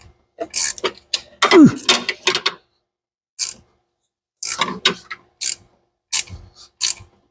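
A ratchet tightens bolts while headers are fitted to a budget turbo Mustang, heard as loud, close clicking bursts separated by silent pauses.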